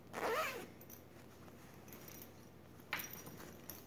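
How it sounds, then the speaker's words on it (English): A zipper on a garment sewing project is pulled open in two quick, close rasps, one at the start and a shorter one near the end, with quiet room tone between. "So what I do is I unzip my zipper."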